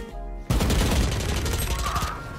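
Rapid gunfire bursts from a tactical shooter game, loud and dense, breaking in after a short quiet start and continuing steadily to the end.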